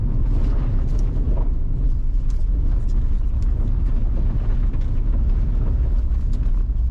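Rivian R1S tri-motor electric SUV accelerating hard, a steady loud low rumble of drivetrain and road noise with faint high motor whine, continuous throughout.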